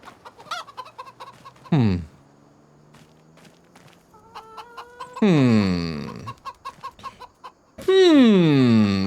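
Chickens in the video game Farming Simulator 25 give loud, close clucks and squawks in several drawn-out calls, mixed with quick rhythmic footstep-like clicks and other game sounds.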